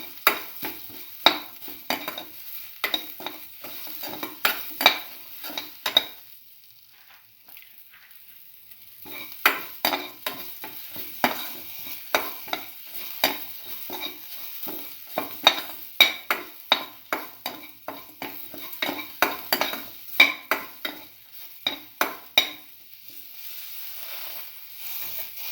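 Egg and black pepper stir fry sautéed in a pan, with rhythmic spatula clacks and scrapes against the metal over a light sizzle, a brief lull near the middle and no talk.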